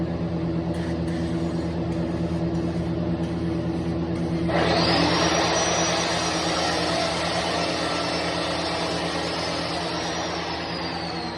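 Compressed air hissing loudly from a nozzle as it blasts oil off a forklift part in a shop, a sudden broad rush over a steady low engine hum that holds for several seconds before easing.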